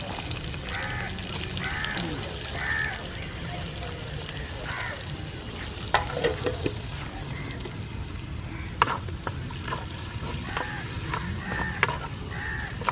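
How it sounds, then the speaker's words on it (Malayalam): Sliced onions fry in hot oil at the start of a Kerala dry beef chops recipe, giving a continuous close sizzle with occasional stirring clatter and a voice talking over it. "അപ്പൊ നമ്മൾ ആദ്യം കുറച്ച് സവാള ഇടുന്നുണ്ട്"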